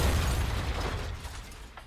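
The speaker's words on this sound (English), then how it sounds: "an explosion erupts outside the door. The sound is distant" A distant explosion in the game Girls Frontline 2: Exilium, heard from beyond a door as a muffled, rumbling boom that starts strong and fades away over about two seconds, with no talking.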